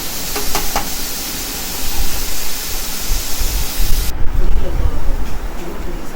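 Onions and chicken sauté in a hot pan, a dense, steady sizzle filling the clip at close range, with a voice speaking over the frying.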